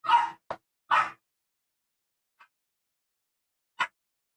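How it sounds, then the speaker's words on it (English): A female pet dog gives a quick cluster of three sharp barks, then falls quiet before one more lone bark, close and clear in an otherwise silent room. "I swear that dog's really good at barking and eating"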